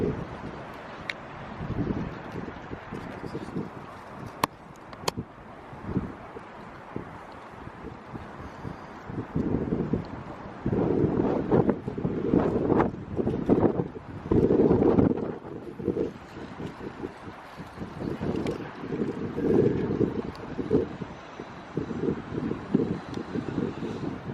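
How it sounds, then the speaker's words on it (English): Strong wind at a high viewpoint in Birmingham buffets the microphone in heavy, rumbling gusts that surge and ease throughout, loudest in the middle, with no talking. "It is very windy up here."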